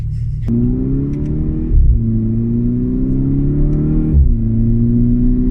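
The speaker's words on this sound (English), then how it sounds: "As the exhaust is getting warmer, farts are getting louder." Volkswagen Golf Mk6 GTI with DSG gearbox, its engine pulling steadily through the gears with two sharp shift pops from the exhaust and a low droning rumble, loud and close, no talk.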